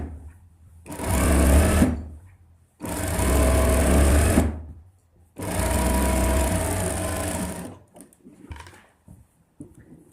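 Three long runs of an electric sewing machine stitching a ladies suit, each a few seconds of loud, steady, buzzing whir with brief pauses between, close by and with no talking over it.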